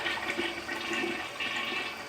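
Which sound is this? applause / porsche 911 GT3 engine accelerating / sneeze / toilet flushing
toilet flushing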